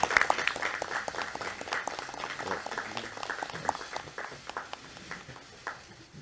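Applause at a political party leadership meeting welcoming a returning provincial governor, a moderate indoor round of clapping that thins out toward the end.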